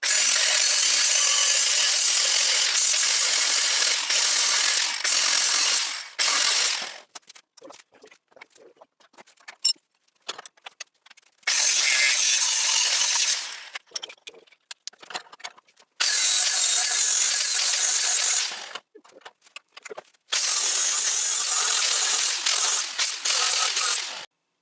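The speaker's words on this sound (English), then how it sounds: "this time, instead of using that sanding disc," A grinding wheel bites into knife steel in four long, harsh, hissing bursts, with rattling and clicking pauses in between, loud and close.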